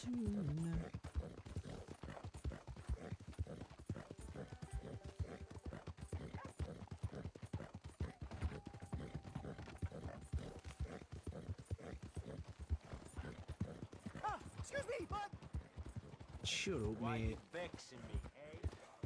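Steady clip-clop of horse hooves on a hard surface in Red Dead Redemption 2, many rapid hoofbeats continuing throughout, with a horse whinnying near the end and voices speaking.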